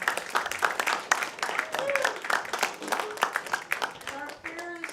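Audience at a church service clapping for a band: brisk, moderately loud applause of many hands, with voices talking over it.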